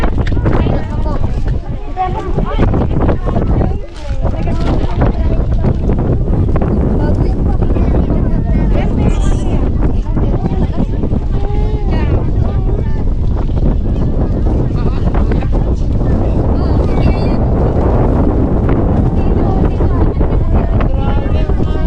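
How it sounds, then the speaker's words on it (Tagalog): Strong wind buffets the microphone in a constant loud roar, with voices talking underneath. "Sobrang lakas ng hangin."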